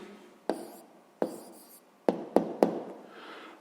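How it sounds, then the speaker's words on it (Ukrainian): A pen writing on paper while a sixth-grade maths exercise is solved, with a few sharp taps and short scratching strokes spaced over a few seconds, close and fairly quiet, with no talk. "Ну що ж, записуємо тоді відповідь."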